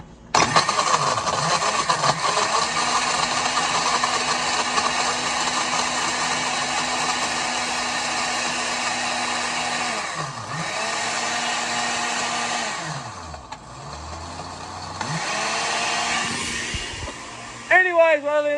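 Honda 250F and Yamaha dirt bike engines idling together, a loud steady drone with a few brief revs and dips, running continuously before a short clatter at the end.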